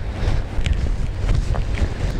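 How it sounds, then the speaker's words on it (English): Strong wind buffets the microphone in continuous low rumbling gusts, with no one speaking. "Like, it's really windy right now"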